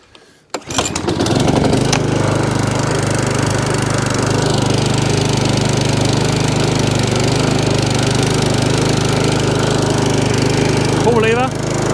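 A Briggs and Stratton lawn mower engine, primed at full throttle, catches after a pull and settles into a loud, steady running drone that continues right to the end.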